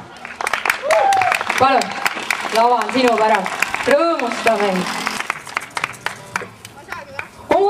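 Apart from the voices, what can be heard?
audience clapping for Rosanna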